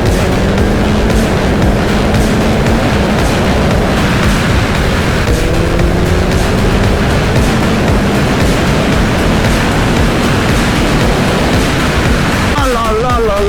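BMW S1000XR motorcycle on the move, a steady loud roar of engine and wind rush filling the whole stretch, with faint rising engine tones underneath and a shift near the end.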